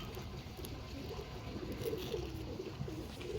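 Breeder pigeons with muffed feet cooing in a loft, a soft low coo repeating over a steady background hum, with no one talking.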